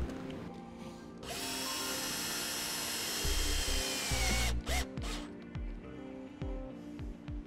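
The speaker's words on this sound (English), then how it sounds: "Using the self-tapping screws provided with our brake controller install kit, we'll go ahead and secure our breakers now." A cordless driver whines in a long sustained run, then in short bursts, as self-tapping screws mount circuit breakers during a Tekonsha Prodigy P2 trailer brake controller install, close and clear.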